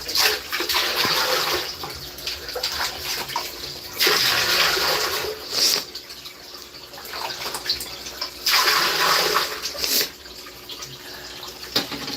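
Water runs into a household storage tank, a steady rushing flow that swells and eases in several surges, close and fairly loud with no talk.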